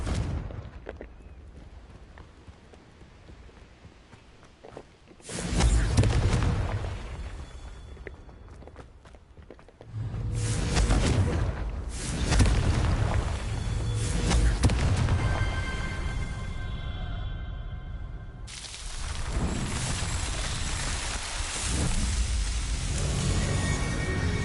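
Confringo spell blasts in the video game Hogwarts Legacy, heavy fiery bursts arriving in several waves with rumbling tails and crackle, separated by quieter stretches of footsteps and ambience.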